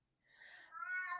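A male house cat meows indoors during a quiet tarot-card reading, two short, close, rising cries run together over about a second with no talk over them.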